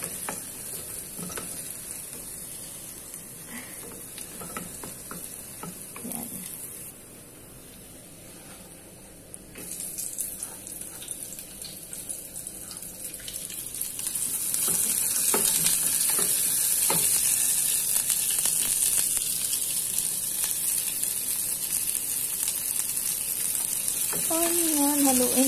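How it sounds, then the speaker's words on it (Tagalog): Garlic frying in a pan for Filipino white adobo, stirred until lightly browned; a soft sizzle with scraping stir sounds that grows louder and denser in the second half, continuous and close. "Haluin ko lang siya hanggang sa medyo maging brown."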